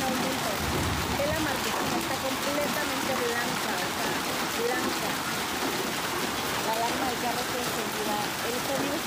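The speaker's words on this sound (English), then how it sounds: "this Wednesday Ecatepec, Pachuca and Texcoco witnessed intense rains accompanied by hail" Intense rain with hail over Ecatepec, Pachuca and Texcoco in Mexico: a dense, continuous roar of water pounding surfaces, loud and unbroken from start to finish.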